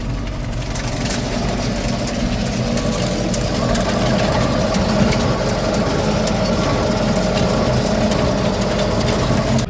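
A tractor engine runs steadily and loudly throughout while driving over a bumpy, uneven field, with a constant low rumble and rattling mechanical clatter, close by and without any speech.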